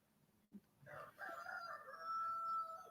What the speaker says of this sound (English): Yes, you hear a rooster.